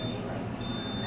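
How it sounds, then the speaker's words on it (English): A fire alarm panel sounds a trouble signal: a thin, steady high beep that drops out briefly and returns, under a dense background of room noise and voices. "What that is, that's a fire alarm panel right now."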